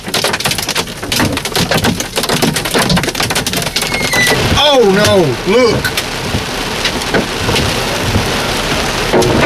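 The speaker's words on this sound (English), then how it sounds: "Easily golf balls, but I think we've got bigger than that hitting the truck." Large golf-ball-sized or bigger hail pounding a truck during a Walker County hailstorm, a dense continuous clatter of impacts throughout, with people talking and exclaiming over it.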